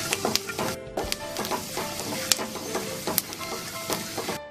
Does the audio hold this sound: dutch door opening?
no